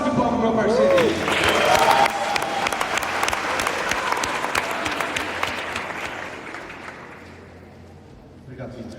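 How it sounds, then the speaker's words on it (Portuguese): Congregation applause for a helper at a church conference, a loud burst of clapping that swells early, then fades gradually over several seconds, with a voice briefly at the start. "Uma salva de palmas pro meu parceiro aí."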